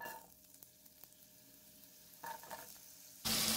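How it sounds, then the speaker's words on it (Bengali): Potato and pointed gourd pieces frying gently in oil over a low flame give a soft steady sizzle, broken by a few stirring clatters and ending in a sudden louder burst of hissing. "লো ফ্লেমে হালকা ফ্রাই করে নিচ্ছি"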